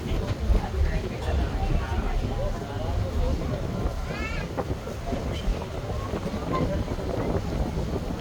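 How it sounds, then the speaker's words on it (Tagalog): A boat moves across the open sea at night, with steady engine and wind rumble, water noise, and people talking over it throughout. "Sumakay po kami sa bangka."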